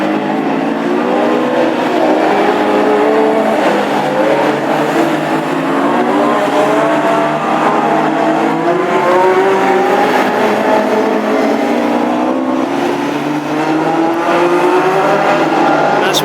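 A classic hot rod race car laps a track at Hednesford during practice, its engine revving and rising and falling in pitch continuously, loud and fairly close, with no talk.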